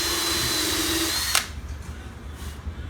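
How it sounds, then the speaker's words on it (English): A power drill whirs steadily for about a second, pre-drilling holes in a wooden slat of a wine barrel chair, then stops with a sharp click, leaving quiet room noise. "pre-drilling in the holes in the back upper slat there to brace the whole back"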